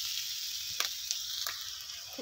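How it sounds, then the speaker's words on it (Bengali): Onions frying in a pan, a soft steady sizzle with a few faint clicks of stirring, quiet and close, no voices. "পেঁয়াজটা ভালো করে ভেজে নেব।"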